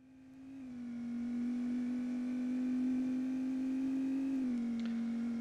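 A car engine in the racing video game Test Drive 5, running on an S3 Trio 3D 2X graphics card, holds a steady high drone that swells in at the start and dips slightly near the end, with no talk.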